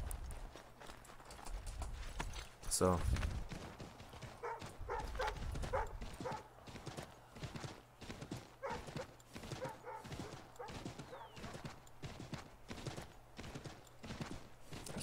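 Rhythmic hoofbeats of a horse galloping along at a steady pace in Assassin's Creed 3, with a single short spoken word near the start.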